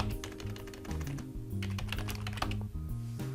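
Keys clatter on a computer keyboard in a quick burst of close, crisp taps with slightly uneven rhythm, heard on its own with no talking.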